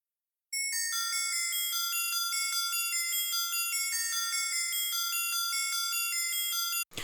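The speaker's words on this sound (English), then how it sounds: "and we have a bells loop" A bright, bell-like trap loop from Trap Royalty by VIP Loops rings out in a steady repeating pattern of clear chiming tones, loud and alone, cutting off abruptly at the end.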